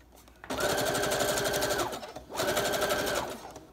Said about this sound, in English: I'm gonna sew these on real quick